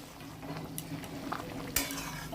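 Tel koi fish slipped into a pan of bubbling broth, a quiet moment of soft simmering broken by a few light clinks and one sharper clatter.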